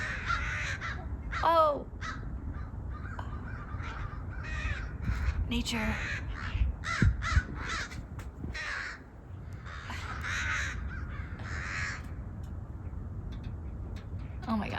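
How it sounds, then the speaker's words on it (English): Several crows caw repeatedly at a hawk over a winter garden, their harsh calls overlapping at moderate distance beneath excited human talk. "Those crows are like, get the heck out of here."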